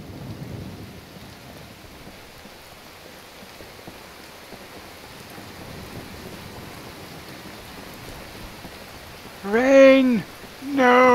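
Steady rain and low rumbling thunder fill an outdoor scene in Skyrim, a soft continuous wash that builds slightly before a voice cuts in near the end.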